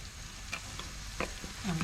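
Shrimp frying in a pan with garlic, onion and tomato, a steady sizzle with a few stirring clinks and a louder hiss near the end, no talk.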